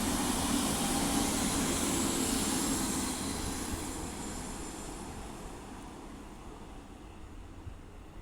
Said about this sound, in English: the next train to be coming past will be a Transport for Wales Class 197 running from